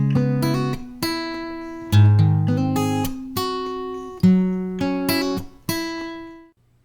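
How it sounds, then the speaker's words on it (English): An acoustic guitar part played back from a recording, with strummed and picked chords ringing out in a steady pattern and fading at the end, with no voices. "I've loaded in a sound file of an acoustic guitar part."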